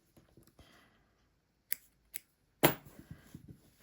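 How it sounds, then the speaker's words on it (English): Scissors snip through crochet yarn in a few quick, close, crisp cuts, the last one loudest, against a quiet room with small handling rustles. "I'm going to snip off here actually"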